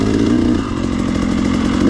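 Motorcycle fitted with an RK Tek piston, new crank, RK Tek head and Scalvini exhaust, ridden slowly in second gear: a steady, loud, close engine drone with a throaty pulse that holds even throughout.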